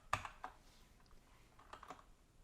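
Quiet, sparse keystrokes on a computer keyboard while typing HTML code, with a sharp first click and then a few scattered, softer taps.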